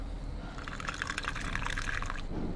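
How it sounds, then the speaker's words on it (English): In The Cat Lady, liquid is poured in a continuous close splashing stream that runs for a couple of seconds, with no voices over it. "And pour this."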